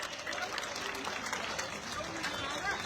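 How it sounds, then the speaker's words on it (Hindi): A huge crowd at a tribute gathering at Ramlila Maidan in Delhi claps for Prashant Singh, a dense, steady wash of applause heard from among the audience. "सब एक बार उनके लिए ताली बजाएंगे।"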